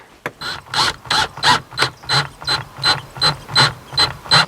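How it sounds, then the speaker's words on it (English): A screw is driven into an Audi C6 sun visor with a power driver, giving about a dozen rhythmic ratcheting bursts in quick succession, loud and close with no talking. "We can get the screw in."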